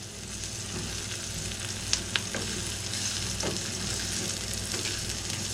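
Peppers and onions sizzle steadily in a pan for a pepper and egg sandwich, a continuous close frying hiss with a couple of brief clinks from a utensil, no voices.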